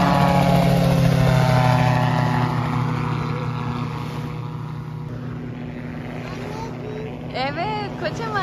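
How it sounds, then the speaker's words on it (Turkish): A loud, steady engine drone with a rhythmic beating throb that slowly fades as it passes, while a person talks over it. "Evet, kocaman helikopter."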